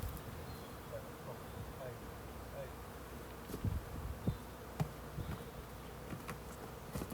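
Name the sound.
honeybees buzzing around the hive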